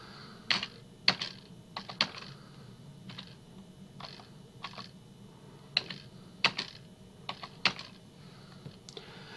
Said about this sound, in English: Letters, numbers, and keyboard symbols can be typed directly.